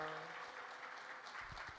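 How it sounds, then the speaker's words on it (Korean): A church congregation gives a short, faint burst of clapping to welcome the pastor, lasting under two seconds. "목사님께 환영하는 박수와 또 우리 할렐루야로 맞이하도록 하겠습니다"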